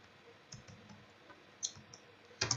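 Typing on a computer keyboard while working in MS Excel, a few sparse, faint key clicks followed by a sharper cluster of louder presses at the end, with no talking.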